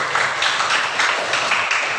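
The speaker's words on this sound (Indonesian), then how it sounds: "Kasih tepuk tangan untuk kelompok 1." A class of students applauds a group of classmates, a continuous wash of close, overlapping hand claps with a few louder accents and no speech.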